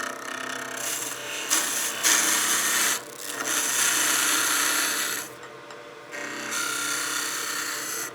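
Wood lathe spinning a Christmas gnome blank while a tool cuts it, bursts of rasping, scraping hiss broken by short pauses as the tool lifts off, close and fairly loud.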